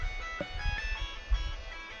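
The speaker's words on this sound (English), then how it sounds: "Why does my fucking phone sound like a fucking carnival?" Tinny carnival-style music plays from a phone ringtone, a steady tonal melody with bright repeated notes over low background rumble, moderately loud and continuous with no talk.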